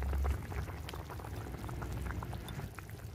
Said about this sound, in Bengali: এখন দিয়ে দেব পোস্ত আর সর্ষে বাটা